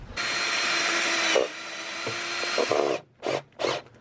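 A power drill drives 1-inch self-drilling screws into a van's metal body, with a long whirring run followed by a brief stop, short bursts, then two quick separate spurts as the screw seats. The drilling is close and no one speaks.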